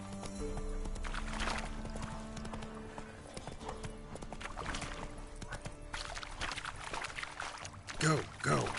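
Horse hooves clip-clop steadily at a trot in The Witcher 3 while a man calls out commands to the horse and eases it to a stop.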